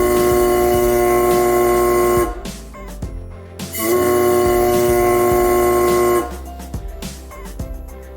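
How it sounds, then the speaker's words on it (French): A homemade horn built from a balloon and a spray bottle blares in two long, steady honks with a reedy buzzing tone, separated by a brief pause with rattling handling noise. "vous obtiendrez un klaxon amusant."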